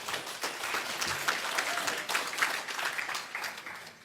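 Audience applause fills a banquet hall during a political speech at a Taiwanese-American members' convention dinner, steady clapping from many hands sustained throughout without speech.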